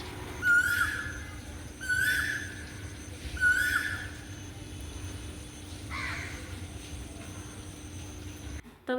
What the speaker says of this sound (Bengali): ঘরের কাছে কোকিল পাখি কত সুন্দরভাবে ডাক দিচ্ছে